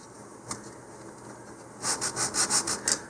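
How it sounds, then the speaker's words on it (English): Sandpaper of 100 grit rubbed back and forth along the channel of a model rocket part, a single scrape first and then a quick run of about six rhythmic, close rasping strokes, with no voices. "to sand the bottom side of the channel. Okay, actually it looks like I can use, we'll start off with some 100 grit here."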